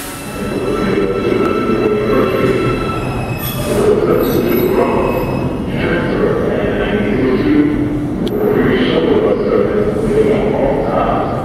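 A subway train on the IRT Broadway-7th Avenue Line passes through 96th Street station, its wheels squealing on the rails over a steady, loud rumble that persists throughout, with a voice faintly heard in the background.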